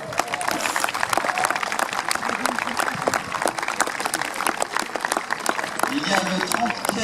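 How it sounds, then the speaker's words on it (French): An outdoor crowd at a commemorative historical reenactment gathering in a French village claps steadily throughout, with voices talking over the applause. "ils méritent aussi des applaudissements"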